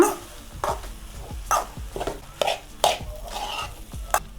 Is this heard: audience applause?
no